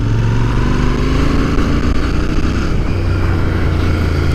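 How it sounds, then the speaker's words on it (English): Royal Enfield motorcycle in 4th gear at about 30 mph, engine labouring as the throttle rolls on, giving a steady, close, loud low thumping exhaust note with no talk. "just ever so slightly labour this engine in a slightly higher gear and just give it a roll on, the exhaust note is fantastic"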